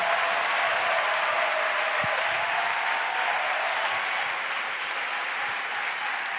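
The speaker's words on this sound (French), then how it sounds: "Let us clap the Lord Jesus." Church congregation clapping for Jesus during a bilingual French-English service, steady dense applause filling the room throughout, loud and continuous without voices.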